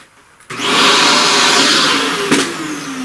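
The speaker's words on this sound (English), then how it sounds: "Let's vacuum that." A vacuum cleaner switches on abruptly and runs with a loud, steady whine, its pitch wavering slightly as it works close by.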